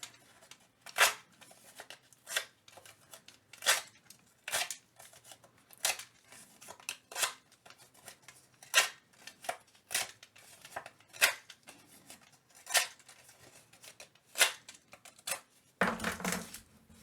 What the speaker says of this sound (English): just going to go in and do some distressing with this paper too.